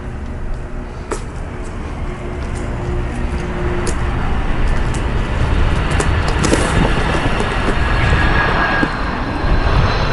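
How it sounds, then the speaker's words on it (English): Acorns pop and crack under the wheels of a used Jet 3 Ultra power chair rolling outdoors: scattered sharp snaps over a steady, loud motor whir and rolling rumble. "The popping noise you hear is the acorns on the ground."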